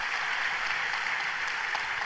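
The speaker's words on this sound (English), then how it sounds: "round of applause" An audience applauds, a dense, even wash of clapping that holds at one level throughout, with no talk over it.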